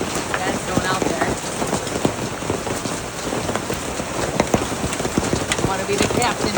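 Hail and heavy rain pelting down outside by a dock during a sudden storm, a dense steady hiss broken by sharp irregular impacts throughout, with voices talking underneath.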